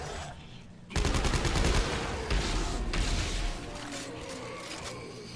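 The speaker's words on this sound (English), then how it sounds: "this rivet gun is really helpful. It's actually an arc welder." An arc welder weapon firing in the Dead Space 3 video game, a dense, loud crackling electric burst that sustains for a couple of seconds and then fades into lingering game ambience.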